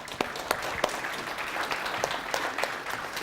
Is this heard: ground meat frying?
no